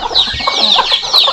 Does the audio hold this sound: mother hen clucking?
yes